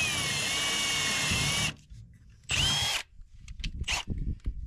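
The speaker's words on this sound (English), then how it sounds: "We're going to pre-drill this, so it's all set up, and all we got to do is jam it to it." A handheld power drill whirs steadily as it pre-drills a hole into wood while installing a mini split, stops, then spins again for a short second burst, followed by clattering handling noises.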